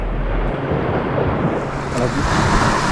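Strong wind gusting over the sea during a fishing trip, steady broadband roar with surf and wave wash, loud and continuous with no speech.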